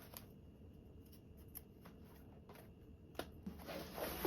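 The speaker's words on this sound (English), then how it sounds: "snipping those corners without cutting your zipper tapes" Scissors snip the fabric corners of a convertible duffle bag without cutting into the zipper tapes, giving a few quiet, close cuts and a rustle of handled fabric near the end.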